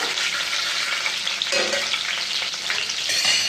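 Garlic cloves, curry leaves and two or three cut green chillies frying in hot oil, a loud, dense crackling sizzle close by, with brief stirring scrapes midway; no voices.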